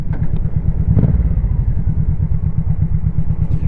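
A Honda Shadow Sabre 1100 cruiser being ridden, its engine giving a loud, steady low rumble with a pulsing rhythm throughout and no talk.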